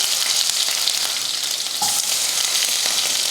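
Onion sautés in hot oil with mustard seeds, urad dal and curry leaves for a spicy chutney, giving a steady, close, crackling sizzle with faint stirring throughout.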